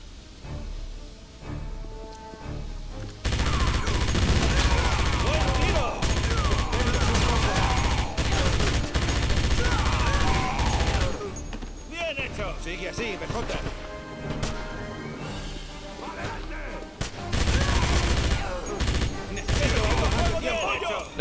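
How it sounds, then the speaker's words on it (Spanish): Heavy MG42 machine gun fire from the game Wolfenstein (2009), loud sustained bursts with brief pauses between, alongside other combat noise and faint voices. "BJ, coge la ametralladora y elimina las tropas"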